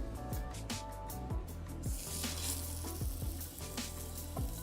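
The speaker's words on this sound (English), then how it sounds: "And add your steaks to the hot oil." Angus filet mignon medallions sear in hot oil in a pan, a continuous crackling sizzle with scattered pops, fairly quiet and heard alone over faint background music.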